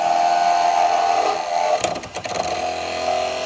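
A woodturning tool makes a back-hollowing cut on the side grain of a small pot, giving a loud, steady scraping whine on the spinning wood that stutters and catches briefly partway through before carrying on, with no talk.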